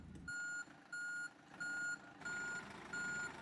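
A bus in the OMSI 2 simulator game gives five evenly spaced reversing beeps, loud and steady, each lasting about a third of a second over a low engine hum.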